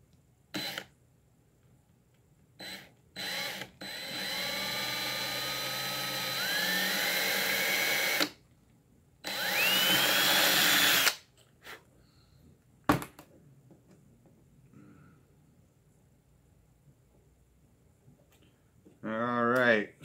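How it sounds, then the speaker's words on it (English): A small drill bit runs through a hole for a homemade perimeter alarm, giving two whining bursts of a few seconds each close by, separated by short clicks and handling noises. "take that itty bitty little drill bit and we'll run her through"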